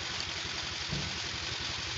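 A motorcycle engine runs at a steady idle-like rumble, a continuous close hum that stays even and unbroken throughout.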